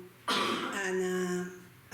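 A single close, loud throat-clearing cough from a woman inside the theater of the Whaley House in Old Town San Diego during a night paranormal investigation, followed by a brief tail of voiced sound.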